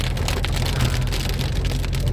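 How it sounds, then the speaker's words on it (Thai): Steady rain pours down outdoors in Thailand, a dense continuous hiss of drops spattering on surfaces, close and fairly loud throughout with no voices. "แต่ตอนนี้มีแต่ฝนนะ"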